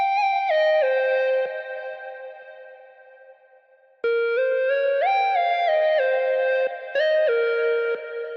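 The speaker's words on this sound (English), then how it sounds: "there's a lot of reverb on here. EQ, boosting up some of the highs, delay, and then some Valhalla vintage verb reverb on there" Synth melody drenched in reverb and delay with boosted highs, its sustained tones stepping between notes and trailing long echoes; the sound fades toward the four-second mark, then returns at full level with a new rising phrase.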